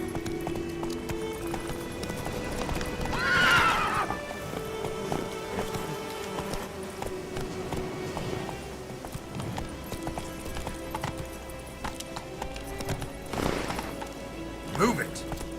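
Horse hooves clip-clop at a gallop in The Witcher 3, a steady rapid drumming under ambient game sound, with a rider's brief voice and a horse's snort or whinny near the start.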